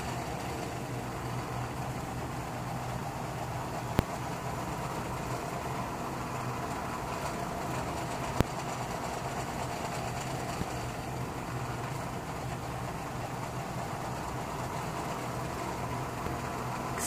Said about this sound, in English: Excuse the noise, the fan is on because it's super hot,